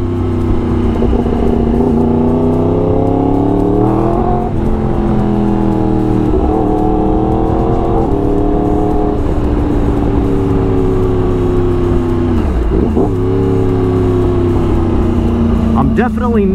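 A 2016 Yamaha R1 motorcycle engine roars steadily nearby, its pitch rising and falling as the throttle is worked, with a voice talking over it.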